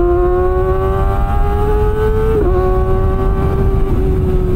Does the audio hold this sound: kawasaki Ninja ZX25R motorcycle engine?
yes